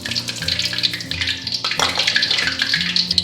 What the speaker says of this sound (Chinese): 再把另一个放下去继续炸